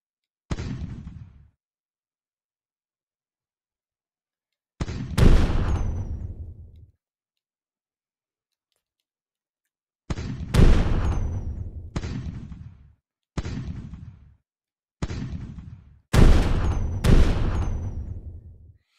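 Tanks blow up amid gunfire in the Tiny Tanks game: about nine sharp, booming blasts, one alone at first, then a tighter run of explosions, each cut off by dead silence.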